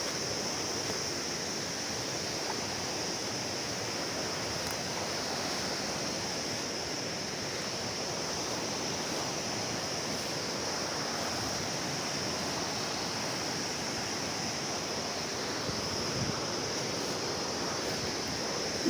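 A Nepali mountain stream (Pakhar khola) rushes steadily and loudly in a continuous broadband wash of water noise, unchanging for the whole stretch, with no voices.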